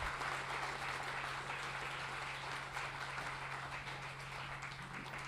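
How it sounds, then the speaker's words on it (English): Sustained applause from a seated conference audience at a maritime history symposium, a steady dense wash of many hands clapping at even loudness throughout, with a low steady hum beneath and no talking. "Please give a big round of applause again for Bethany Groff-Dureau."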